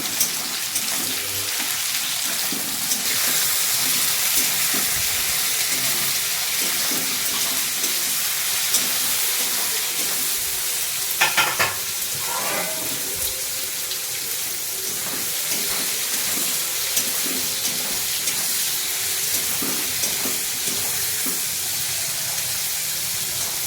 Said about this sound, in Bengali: আমি লাল করে ভেজে নিচ্ছি, টমেটো, রসুন, পেঁয়াজ, আদা, লঙ্কা লাল করে ভেজে নিচ্ছি